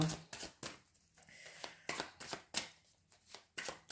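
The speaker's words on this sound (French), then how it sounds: "Je vais prendre une première carte" Tarot cards being handled and drawn from a deck, giving quick papery flicks and riffling snaps in an irregular series, close and soft, with no voice.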